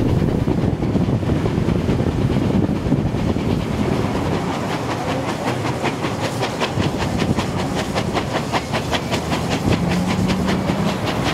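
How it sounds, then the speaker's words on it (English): Locomotive 3642 hauls a train through the Sydney suburbs: a loud, steady rumble with a regular clickety-clack of wheels on rail joints that grows brisker over the stretch, with wind buffeting throughout. "The locomotive is now travelling through the suburbs of Sydney."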